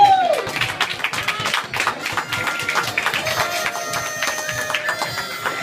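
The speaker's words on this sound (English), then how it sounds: "Applause." Scattered applause from a small studio audience at a comedy show premiere, individual claps distinct and uneven, with some tapping and a faint tonal sound beneath.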